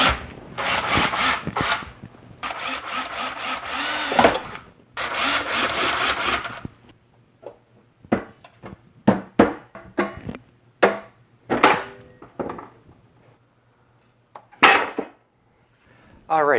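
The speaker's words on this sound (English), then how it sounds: "when I drill out these couple of rivets" Drilling out a couple of rivets on a 24V 100Ah lithium battery pack: bursts of grinding, rasping metal-drilling noise, then short scrapes and clicks as metal bits are cleared, close and fairly loud.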